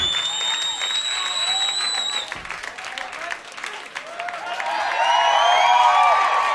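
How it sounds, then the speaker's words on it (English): Audience applause and cheering for a band at a live show in London, a dense steady clapping crowd that swells louder toward the end, with a whistle-like tone early on. "Give him a round of applause, man."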